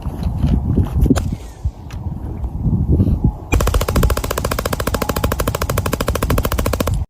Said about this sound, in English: he has a suppressor, so it sounds like he's shooting a 22